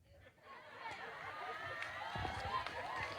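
A crowd cheers and chatters at a night prayer vigil at the Marian sanctuary of Notre-Dame de la Paix in Casamance, Senegal. The noise swells from a quieter start into a steady, dense roar with scattered louder bursts.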